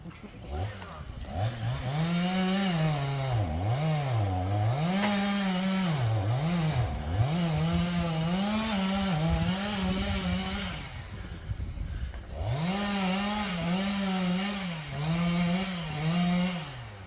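Chainsaw cutting trees during a felling job, its engine droning loudly and close with repeated rising and falling revs as it bites into wood, a brief pause mid-way, then cutting resumes; people talk over it.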